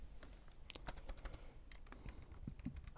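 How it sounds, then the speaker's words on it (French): Quick, irregular clicks of typing on a small Bluetooth keyboard, crisp close-up keystrokes in short bursts with brief pauses, no talking. "Un petit clavier Bluetooth. J'ai essayé, ça fonctionne très bien."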